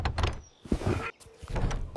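Cartoon door sound effect in a children's animated fairy tale: a short knock-like bump, then a sliding creak and a thud, followed by a rustling clatter, quiet and close.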